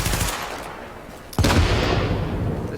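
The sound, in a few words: submachine gun firing in The Division video game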